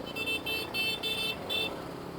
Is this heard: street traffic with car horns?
yes